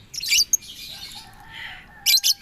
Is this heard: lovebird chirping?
yes